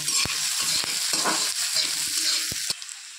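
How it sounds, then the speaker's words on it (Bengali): Spices fry in hot oil with ginger paste and green chilli for a chana dal with pumpkin greens, a steady close sizzle broken by sharp scrapes of the stirring spoon, with no voices. "এইগুলো দিয়ে আমি আবার একটু নাড়িয়ে নেব"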